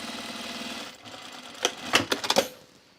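A sewing machine topstitches pressed seam allowances on a pair of Zen Pants, first running in a steady hum, then stopping and starting in several short, sharp bursts close by.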